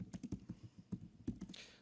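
Quick, faint clicks of typing on a computer keyboard, an uneven patter of keystrokes in short bursts at close range with no talk over it.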